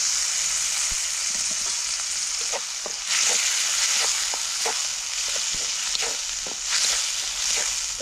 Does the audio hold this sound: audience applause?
no